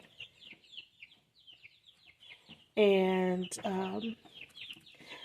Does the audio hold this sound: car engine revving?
no